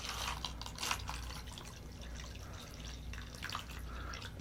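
Bleach is poured onto an iPhone, a continuous quiet trickle and splash of liquid with a few louder drips, close by and heard alone.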